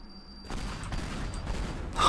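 Fireworks packed under a bridge in the video game Teardown go off in a sustained, crackling barrage of dense explosive bursts that swells toward the end, loud and close with no talking.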